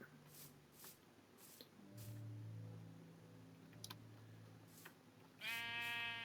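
Sheep in the Minecraft Feed the Beast Unleashed modpack give a few short bleats amid game sounds, with brief clicks and a louder burst of game noise near the end.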